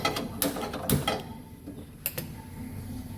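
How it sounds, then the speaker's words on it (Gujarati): A kitchen gas stove being switched on: a few sharp mechanical clicks and ratcheting sounds from the knob and igniter, close by, with quiet pauses between them. "હવે આપણે ગેસ ચાલુ કરશું."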